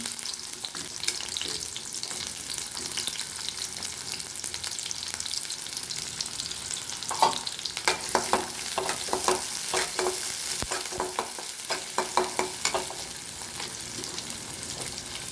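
Chopped large onions sizzle and fry in a pan, with intermittent scraping and clinking as they are stirred, growing busier partway through.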